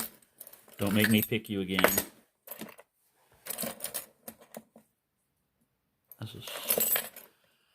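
A bunch of keys jangles in bursts while someone searches for them, with metallic rattling in three separate clusters separated by quiet, and a person speaks briefly during the first burst.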